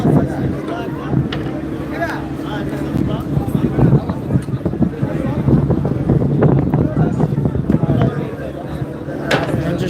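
Busy launch terminal at Sadarghat in Dhaka, with boats and trawlers alongside the launches: steady rumbling engine and water noise with wind buffeting the microphone, and voices talking throughout in the crowd.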